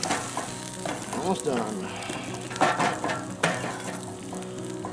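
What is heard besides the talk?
bacon and eggs frying in a G.I. mess kit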